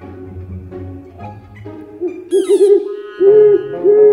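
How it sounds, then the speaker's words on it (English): A wild owl hoots in a series of clear, loud, tonal calls that grow stronger midway, with a short pause before the last drawn-out hoots and no voices present. "It's an owl."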